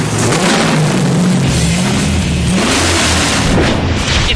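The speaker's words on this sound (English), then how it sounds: "There's nothing like the sound of a true Hemi." A Hemi engine revving loud and close, its deep, rough roar rising and falling in pitch through several throttle swells with a continuous rumble underneath.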